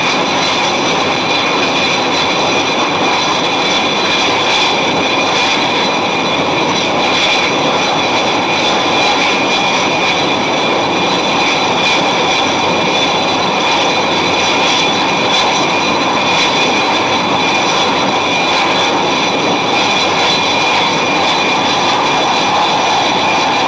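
A steady, loud roar of jet engines fills the whole stretch as a Buccaneer S.1 strike aircraft and a Scimitar jet fly together during in-flight refuelling at around 300 miles an hour, continuous and unbroken with no voices.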